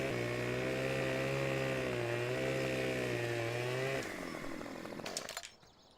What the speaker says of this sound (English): just cut them down with a chainsaw